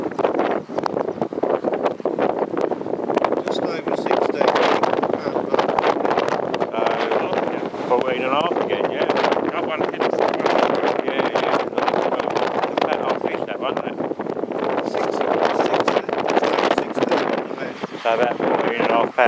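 Gusty wind buffets the microphone outdoors at a Fenland pike fishing spot, a loud continuous rumbling roar that swells and eases throughout, with people talking underneath.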